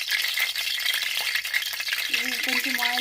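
Onions for egg curry fry in oil with a bright, constant sizzle. Stirring rattles through it, and a short melodic tone rises near the end.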